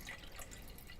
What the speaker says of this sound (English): pour your water in there